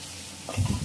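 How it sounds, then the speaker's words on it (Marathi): Masala for lauki bharta fries on a slow gas flame, a soft sizzle that grows louder as it is stirred in the pan, brief and close. "चांगलं परतून घ्यायचं हा मसाला. गॅसची फ्लेम स्लो ठेवलेली"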